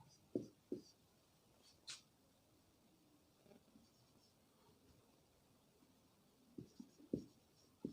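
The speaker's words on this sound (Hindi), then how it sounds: "तो सबसे पहले मित्रों लिख रहे होंगे" A pen scratches on paper in a few short, faint strokes, clustered near the start and again toward the end, with quiet pauses between and no talk.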